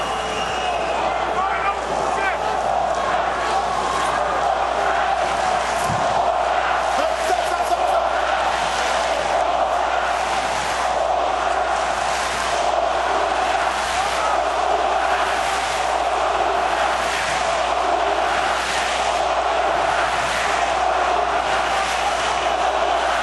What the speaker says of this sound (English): German crowd chanting as 2 Eastern European-born fighters square off in the ring.